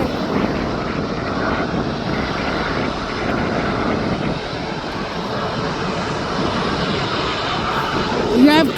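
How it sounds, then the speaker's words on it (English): A Boeing Dreamliner airliner climbs away after takeoff at Birmingham Airport, its engines giving a steady, loud broadband roar that holds for the whole stretch, with a brief swell near the end. "That Dreamliner is now up in the air."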